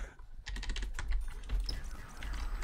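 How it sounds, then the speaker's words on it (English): A hand slams down on a computer keyboard during a World at War zombies game session, setting off a rapid clatter of keys pressed in quick bursts at close range. "my hand went on my keyboard"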